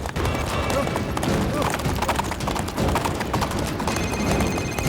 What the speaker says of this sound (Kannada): ಬಿರುಗಾಳಿ ಒಂದು ಕಾಡು ಕುದುರೆ, ಅದಕ್ಕೆ ಬೆಲ್ಟಿನ ಅವಶ್ಯಕತೆ ಇಲ್ಲ.